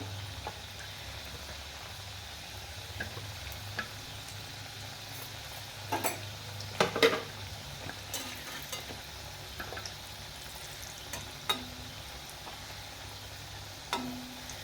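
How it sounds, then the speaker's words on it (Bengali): Decorative pitha fries in white oil with a steady, low, hissing sizzle. A few faint pops and a brief clatter of stirring break the sizzle midway. "সাদা তেলে ভাজবেন বন্ধুরা, সাদা তেলে ভাজলে অসাধারণ দেখতেও লাগে আর খেতেও ভালো লাগবে।"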